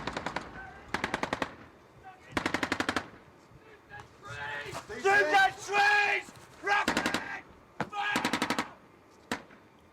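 Rapid bursts of machine-gun fire during an attack on a British outpost in Garmsir, Afghanistan, several sharp rattling volleys with short gaps, with shouting voices in the middle.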